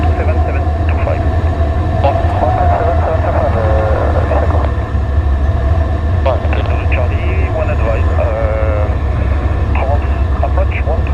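A light aircraft's piston engine drones loudly and steadily from inside the cockpit as the throttle is reduced on a short landing approach to LFMV, with people talking over the engine throughout.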